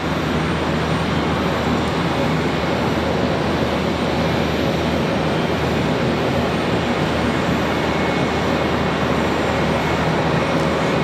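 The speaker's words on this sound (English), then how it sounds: "American Airlines 1295 coming in from Washington, D.C. An A319," An American Airlines Airbus A319 arriving at Charlotte Douglas from Washington, D.C., a continuous, even wash of jet engine noise with steady loudness and no voices.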